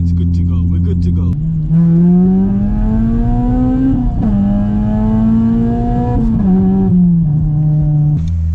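A straight-piped Honda Civic Type R revs its exhaust up close and loud in a series of rising, sustained blips. The drone is raspy and heavily harmonic, and a voice briefly speaks near the start.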